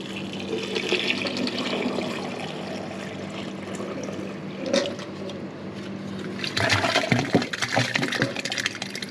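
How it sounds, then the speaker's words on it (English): A jug of water poured down a manhole drain, a sustained splashing gush with a louder, rougher rush of water near the end, no voices. "what I'm going to do is chuck a jug of water down it and see what happens"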